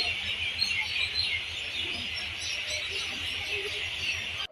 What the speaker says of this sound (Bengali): পাখিগুলা পুরো কানটা নষ্ট করে দিল।